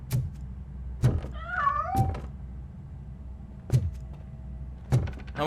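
A cat in the game RoboCop Rogue City gives one short, rising-and-falling meow, set among several heavy door thunks and mechanical clunks that punctuate an otherwise quiet room.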